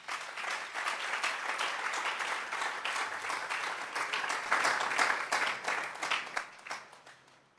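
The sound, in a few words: congregation applauding in church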